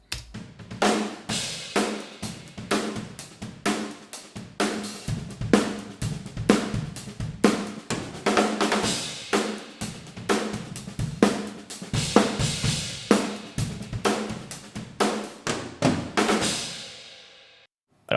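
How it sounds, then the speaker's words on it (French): Full drum kit playing a steady groove with punchy snare and kick hits, the snare recorded on two mics with polarity inverted on one track, giving a thin, hollow sound throughout before stopping at the end. "dès que j'enclenche ce petit bouton de polarité, la phase est maintenant complètement pas où elle devrait être, et tout le kit fait un peu comme ça"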